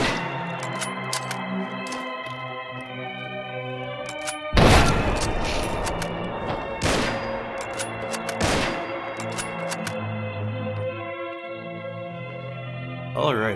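Mosin Nagant rifle shots in Fallout 4 crack out as several sharp, loud reports spaced seconds apart, each followed by a short ringing tail over a constant layer of background music and game ambience.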